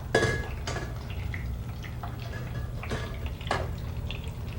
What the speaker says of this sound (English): I'm just going to pour this through a chinois